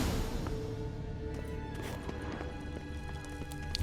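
A horse gallops in the video game Witcher 3, with steady hoofbeats drumming under a dense, busy game soundscape that stays at an even level throughout.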